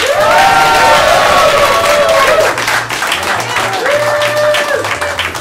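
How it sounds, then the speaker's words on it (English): A student improv showcase audience breaks into loud, sustained applause and cheering, with whoops and shouts over the clapping throughout. "Give them a round of applause."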